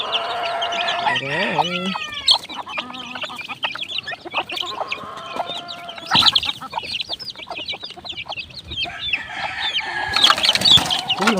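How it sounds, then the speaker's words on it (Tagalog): Chicks and chickens clucking and peeping close by at feeding time, with a rooster crowing and some wing flapping, while someone talks over the birds. "Ayan po ating mga sisiyo mga kaibigan"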